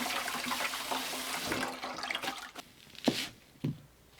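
Running water splashes steadily as soaked potato pieces are rinsed to wash off starch, with a few sharper sloshes and drips toward the end, close and fairly loud.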